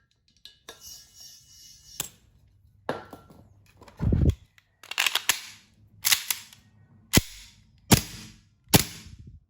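Sharp, crisp shots from a used WE F226 (P226) gas blowback airsoft pistol ring out one at a time with short gaps, about a dozen in total, close and loud against a quiet background.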